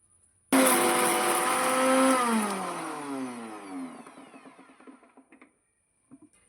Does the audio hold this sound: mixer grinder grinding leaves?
yes